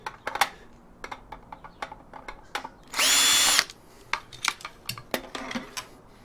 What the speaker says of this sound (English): Then I'll change the screwdriver back to Phillips.